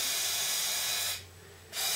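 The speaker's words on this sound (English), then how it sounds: "I'm going to spray some WD-40 down each one of these ports" WD-40 aerosol sprays in a loud, steady hiss down into the ports of a Kent Formula Ford 1600 engine, then cuts off briefly before a second burst starts again up close.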